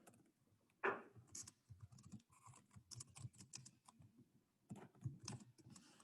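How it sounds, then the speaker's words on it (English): Quick, uneven bursts of typing on a computer keyboard tap close by and quietly, one louder thump near the start, then a pause before a final run of keystrokes. "Let me type this out."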